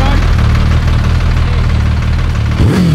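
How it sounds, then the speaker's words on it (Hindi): A Suzuki Hayabusa motorcycle engine runs at a loud, close, steady idle with a deep rumbling pulse, and a brief rising rev or whine near the end. "कर दिया बाइक स्टार्ट"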